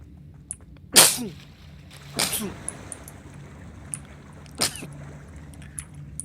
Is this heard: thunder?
no